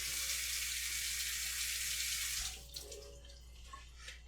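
Water runs steadily and loudly from a kitchen tap during the cooking of Hamburger Helper, then cuts off partway through, leaving quieter sink and kitchen sounds.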